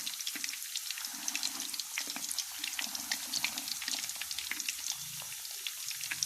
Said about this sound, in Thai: แล้วก็ต้องทอดให้เหลืองกรอบเลยนะคะ